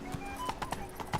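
Horse hooves clip-clop in The Witcher 3, a run of sharp evenly spaced hoofbeats over a steady game background hum, close and clear.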